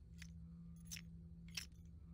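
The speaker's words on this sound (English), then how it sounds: "Scrap Baby has metallic rattling." Scrap Baby's metallic rattling cue from the video game FNAF Pizzeria Simulator: three short, faint, bright metallic rattles spaced apart over a steady low hum.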